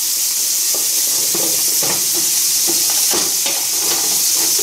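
Beef browning in a pressure cooker pot gives a dense, steady sizzle with no break. Soft scraping knocks from stirring come through now and then.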